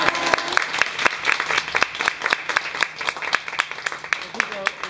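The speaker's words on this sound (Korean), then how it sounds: "박수 한번 쳐주세요" A small group claps at a gold leaf demonstration in Bolivia. The claps are loose and uneven, with separate sharp hand strikes, and talk can be heard underneath.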